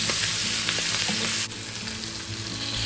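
Long-cut spring onion whites and onion sizzle and crackle steadily in a hot pan, a loud, close, continuous frying hiss with a slight dip partway through.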